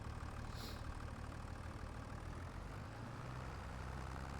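A tractor engine idles steadily in Farming Simulator 25, a constant low rumble that continues without a break at moderate level, with no talking over it.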